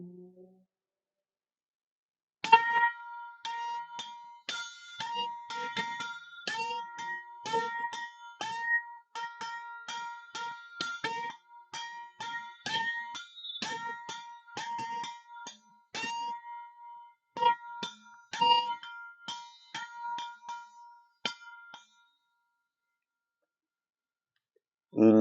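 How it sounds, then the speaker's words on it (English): A gong beaten repeatedly in quick, irregular strikes, each ringing with bright metallic overtones for about twenty seconds before falling silent; no talk over it. "Enough of the beating of the gong."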